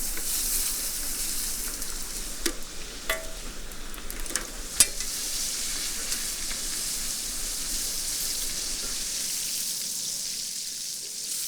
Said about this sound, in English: coating vegetables in batter actually helps them stay moist inside while creating a golden, crispy outside